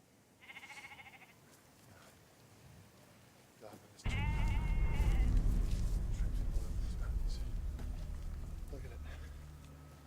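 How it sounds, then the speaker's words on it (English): A flock of sheep bleating outdoors, with a thin early cry, then a sudden loud cluster of overlapping bleats and rustling movement that continues close by for several seconds. "Nothing but bloody sheep."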